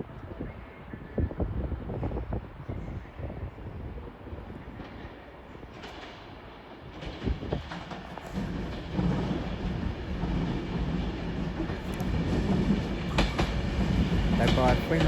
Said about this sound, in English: Soon to arriving now will be the 1404 Advanced West Coast service from Edinburgh to London Euston